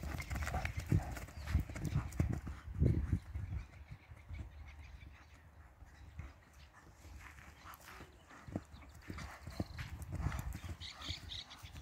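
Hooves of an overo gateado horse clip-clop at a walk on the ground, steady and fairly close, with a few louder thuds and faint background noise.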